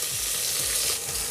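Cumin, curry leaves, green chillies and onions sizzle in hot oil for a vegetable moong dal khichdi, a steady, close, dense frying hiss with no talking.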